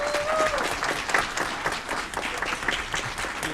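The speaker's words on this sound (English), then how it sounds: "Let's give her another round of applause." A round of applause for the Little Miss Puerto Rico Court fills a city council chamber in Aurora, dense steady clapping from many hands lasting throughout at an even, moderately loud level, with a brief faint tonal squeal near the start.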